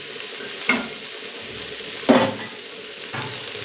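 Cauliflower pieces fry and sizzle in a pan, with a steady hiss broken by a few brief scraping stirs.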